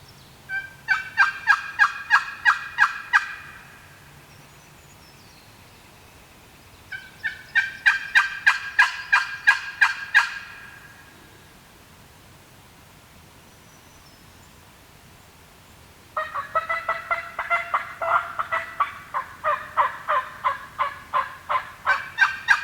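Wild turkeys gobbling from the roost in New York: three bursts of rapid, rattling gobbles, each lasting a few seconds with quiet gaps between, fairly clear at moderate distance, the last burst longer with overlapping birds.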